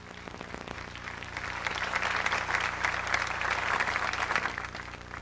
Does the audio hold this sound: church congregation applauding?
yes